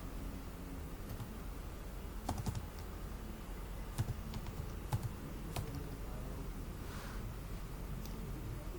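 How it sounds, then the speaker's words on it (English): Typing on a computer keyboard while entering a sheet name in Microsoft Excel desktop produces sparse, irregular keystrokes, close but soft, over a low steady room hum. "So I am typing here attendance."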